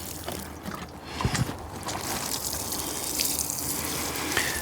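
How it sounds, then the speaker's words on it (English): Water from a watering can pouring onto a garden bed in Alaska, a steady splashing gush that swells midway and runs continuously, fairly close. "Got the third and final watering can going on."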